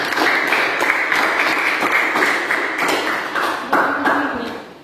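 A classroom audience applauds a student group after their hydrostatic pressure presentation: dense, fairly loud clapping from many hands lasting several seconds before tapering off at the end.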